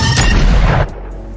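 A single loud gunshot from a film booms and rolls off, its deep blast filling the moment before dropping to a low rumble.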